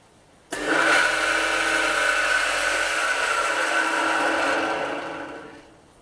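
A homemade branch chipper built from a cut-off saw starts abruptly and runs with a loud, steady whirring motor drone and grinding, then winds down and fades near the end; no speech.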